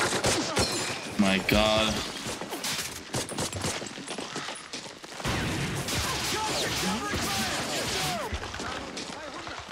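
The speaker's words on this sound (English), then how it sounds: "You just got bullets whizzing over your head nonstop." Machine gun fire and gunshots from a battle scene in the war TV series Band of Brothers, a dense continuous barrage under loud dialogue and shouting, with a brief exclamation from a viewer.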